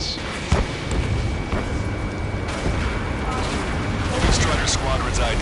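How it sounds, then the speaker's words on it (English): In the Ace Combat 7 video game, gunfire crackles over a dense, continuous roar of jets echoing through city streets, loud and unbroken throughout. "Gunfire and the roar of jets echoing through the streets"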